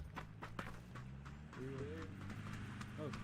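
Horse galloping in a video game, played during a PUBG and multi-game stream: fast clip-clop hoofbeats run steadily throughout, with voices talking over them.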